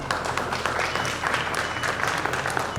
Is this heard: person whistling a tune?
no